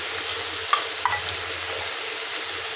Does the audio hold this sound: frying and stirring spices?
yes